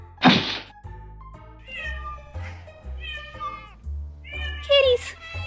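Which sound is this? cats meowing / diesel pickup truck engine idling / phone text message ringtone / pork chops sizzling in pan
cats meowing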